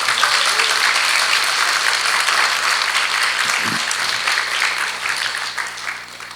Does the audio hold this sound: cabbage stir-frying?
no